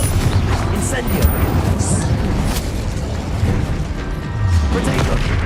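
Hogwarts Legacy's Confringo spell going off, a loud booming blast with crackling debris that fills the space, rolling on through continuous battle noise while a voice calls out.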